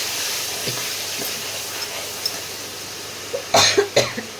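Onion juice poured over fish in a hot pan, giving a steady low hiss of frying with a few short sputtering crackles and a louder burst of sizzle near the end.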